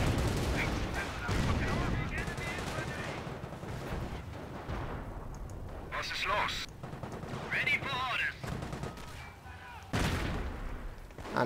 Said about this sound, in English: one of the biggest casualty generators are these mortars